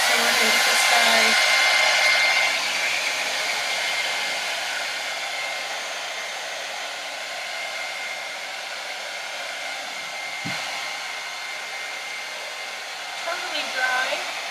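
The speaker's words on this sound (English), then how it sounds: "And so I'm also now going to take my hairdryer on here again." A handheld hair dryer blows steadily over a wet art piece, a loud continuous whooshing roar that starts strongest and eases slightly, running unbroken throughout with a faint clunk near the end.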